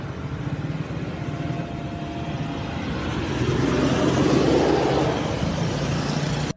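Road traffic in the Dominican Republic, with a car engine revving. A steady motor rumble swells louder midway as a vehicle passes close, then eases off before cutting out abruptly.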